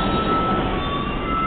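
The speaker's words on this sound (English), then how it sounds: "There's supposed to be a 4 train coming into the station now, I believe." A New York 4 subway train arriving at a station, a steady loud rumble of rail noise with a faint high squeal from the wheels, and no talking.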